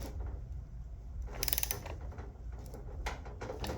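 A ratchet wrench with a deep socket clicks in quick bursts while cranking loose fasteners on a Kawasaki KX100 dirt bike engine during crankshaft removal, faint metallic ticking with short pauses, no talk.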